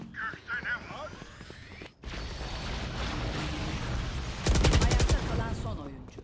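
Gunfire in the video game Valorant, bursts of shots with a loud dense volley near the end, mixed under game effects and talk.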